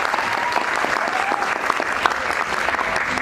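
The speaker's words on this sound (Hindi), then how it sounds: "एक बार जोरदार तालियां मेरे प्यारे बच्चों के लिए।" An audience at a cultural festival applauds children after their dance drama, loud, dense clapping that continues evenly from start to finish with a faint crowd murmur underneath.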